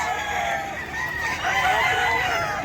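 A bulik rooster crows amid a busy poultry market, its call mixed with other birds clucking and crowing around it over a steady din of background noise.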